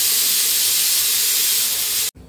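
A pressure cooker whistle shrieks loudly as steam hisses out under pressure while mutton curry cooks, one long sustained blast that cuts off abruptly near the end.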